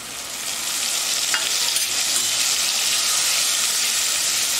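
Masala spices frying with golden brown onions in a pan for vegetable biryani give a loud, steady, close sizzle with a faint stirring scrape near the start.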